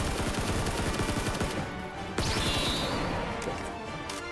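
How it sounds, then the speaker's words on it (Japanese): Sustained gunfire in the battle royale game Knives Out, dense rapid shots in a loud continuous barrage with a sharp crack partway through and a faint whistling tone afterward. "撃ってるやついるな。"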